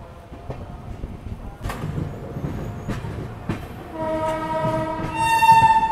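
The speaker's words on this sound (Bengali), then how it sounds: "আমার ট্রেন এসেছে কিষানগঞ্জ রেলওয়ে স্টেশনে 1 নম্বর প্ল্যাটফর্মে" The Darjeeling Mail rolls into Kishanganj station with a few sharp clanks and knocks over a low rumble, then a loud, sustained horn blast builds and holds at the end.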